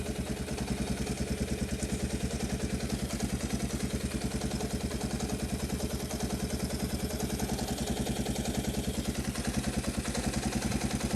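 A Kawasaki KLT185 three-wheeler, pulled from a snowbank, idles with a steady, rapid single-cylinder putter and light mechanical clatter, close and even for the whole stretch with no talk.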